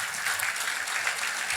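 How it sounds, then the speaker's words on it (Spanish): A church congregation claps loudly together, a dense, continuous wash of applause filling the room for the whole stretch. "Dele un fuerte aplauso al Señor."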